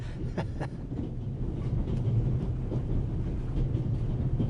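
Steady low rumble of a moving train heard from inside a carriage in a video game, a continuous muffled roar with faint rhythmic knocks and no talk.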